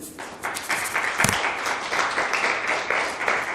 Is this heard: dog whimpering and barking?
no